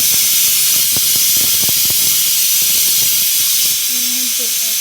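Water splashed into hot spice masala in a kadai sizzles with a loud, steady steaming hiss, close up, with a few scraping stirs and a brief faint voice near the end.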